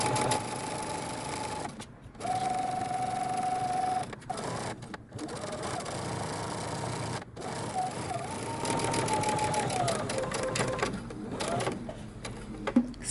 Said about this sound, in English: we're going to be sewing these together at the side seam front to back